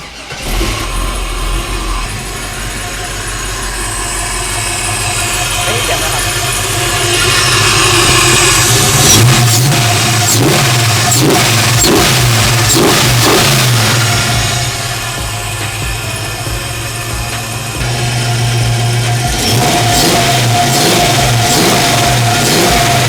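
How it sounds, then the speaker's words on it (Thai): A swapped-in LS V8 engine in a 1971 Chevrolet rumbles at idle, then revs up several times in quick surges before settling back to a steady throaty idle, loud and close. "นี่เราไปดู ภายในรถกันไหมครับหรือฟังเสียงเครื่องกันไหมครับ"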